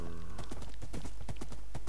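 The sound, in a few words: horse hooves clip-clopping in a video game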